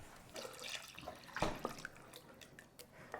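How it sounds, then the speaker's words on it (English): Water runs into an empty 28-ounce crushed-tomato can in a home kitchen, a short splashing, gurgling pour with a few sharper drips and spatters near the middle, fairly close and with no talking. "I'm going to fill this up with water and put it in our crock pot."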